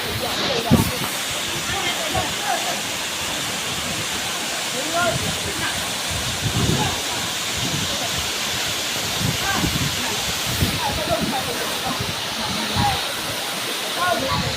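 A natural waterfall sends down a steady, broad wash of rushing water that holds at an even level throughout, with a voice faintly speaking over the roar now and then.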